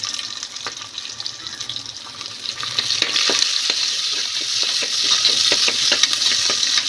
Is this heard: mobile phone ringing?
no